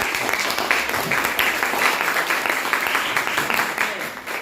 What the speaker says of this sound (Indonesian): kita tepuk tangan dulu buat kita semua